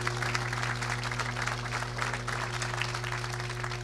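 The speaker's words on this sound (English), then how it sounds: "let's give our friends from Turner a round of applause" Steady applause from a crowd fills a stadium topping-out ceremony in honor of the Turner construction team, an even wash of clapping over a low electrical hum.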